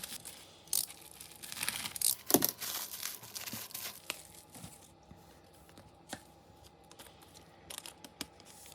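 Close, quiet tearing and crinkling of plastic packaging as Taobao merchandise is unwrapped, with irregular sharp rips and rustles, busiest early and thinning into scattered crackles.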